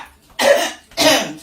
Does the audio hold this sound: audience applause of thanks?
no